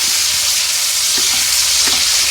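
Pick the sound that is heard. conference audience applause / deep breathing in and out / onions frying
onions frying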